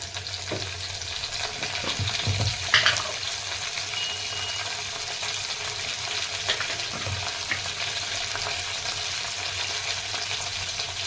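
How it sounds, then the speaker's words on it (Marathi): Garlic and curry leaves fry in hot oil in a pan for a spinach khichdi tempering, a steady close sizzle with a few louder crackles and stirring scrapes near the start, no talk. "लसूण आता छान लाल व्हायला लागले परतायला त्यामध्ये कढीपत्ता"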